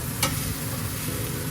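Cucumber stir-fried with sliced pork, a steady close sizzle with one quick spatula scrape near the start, no voices.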